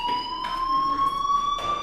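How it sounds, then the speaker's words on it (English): Fire alarm sounding in the video game Life is Strange, a loud steady electronic tone with repeated pulsing bursts roughly every half second, no speech over it. "do you hear that fire alarm?"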